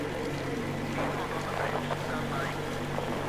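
A motorboat engine runs in the video game Metro Exodus, a continuous low drone with wind and water wash. Muffled voices talk over it the whole time.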